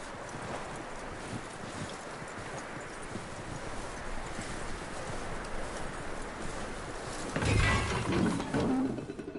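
Steady clip-clop of horse hooves at a walking pace over ambient noise in the video game Red Dead Redemption 2, with a louder rustling burst near the end.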